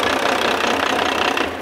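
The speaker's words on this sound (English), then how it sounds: "The engine's slightly cold, so the pressure's going to be quite a bit higher at cold RPM." A slightly cold engine runs just after start-up at elevated RPM, a steady, loud, close mechanical roar with a fine rapid knock throughout and no talking.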